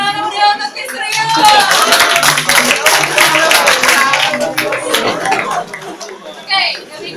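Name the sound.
audience applause at university pageant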